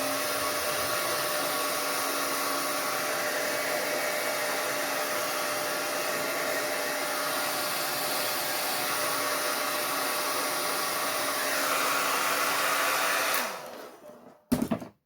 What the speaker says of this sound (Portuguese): A gente pega um secador de cabelos e aquece o material um pouco para ficar mais fácil de desvirar.